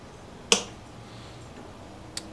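The lid of a JVR Vac100 chamber vacuum sealer pops open with a sharp, loud hiss-snap over a faint steady hum, followed by a smaller click a moment later.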